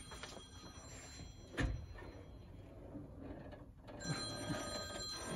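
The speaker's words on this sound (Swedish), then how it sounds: "En telefon här inne i brandskåpet." A telephone rings from inside a fire hose cabinet, a faint repeating bell over a steady indoor hum.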